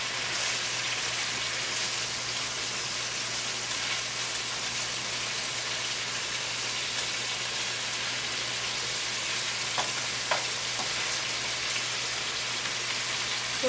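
Pepper steak frying in a couple of tablespoons of olive oil in a pan gives a steady, even sizzle that holds at a constant level throughout, with a faint low hum beneath it and no talking.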